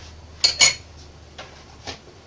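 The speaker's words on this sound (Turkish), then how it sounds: "Bir güzel karıştırıyoruz." Spoon clinking against a bowl while stirring farm milk with yogurt starter, a few bright metallic taps and scrapes, close and alone in a quiet room.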